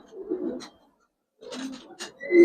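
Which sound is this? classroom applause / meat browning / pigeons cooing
pigeons cooing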